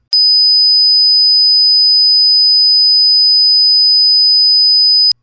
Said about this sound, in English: So here's 5000 Hz.